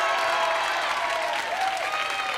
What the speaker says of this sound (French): Vous pouvez l'applaudir très fort encore une fois.